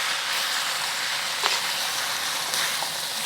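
Char kway teow noodles with chives stir-fry in a hot pan, giving a steady loud sizzle and hiss. A few faint stirring scrapes sit on top of the frying.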